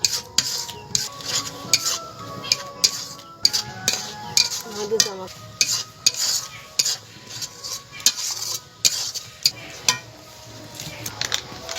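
A semolina filling for steamed puli pitha is stirred in a pan, giving rhythmic, close scrapes and sharp metal clinks of a spoon against the pan at a steady pace over a low background hiss.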